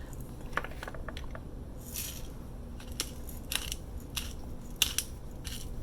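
A hand pepper grinder grinds peppercorns in short, faint crunching bursts with small clicks between them, close by in a quiet kitchen.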